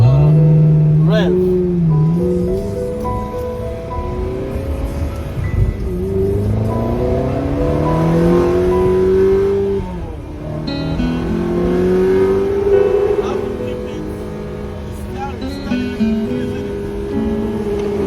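An exotic sports car's engine revs and holds loud, with rising and falling pitch that sways up and down over the whole stretch, mixed with a voice.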